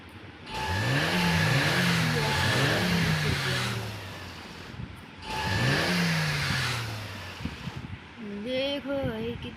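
In the mobile game Real Car Driving: Race City 3D, a car engine revs up repeatedly in rising and falling sweeps, loud and close. A brief pause comes between bursts, then a shorter rev at the end.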